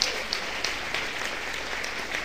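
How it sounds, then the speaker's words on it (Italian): Steady applause from a crowd, a continuous wash of clapping with no voices over it. "e un applauso ancora"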